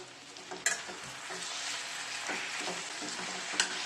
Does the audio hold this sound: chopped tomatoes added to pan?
yes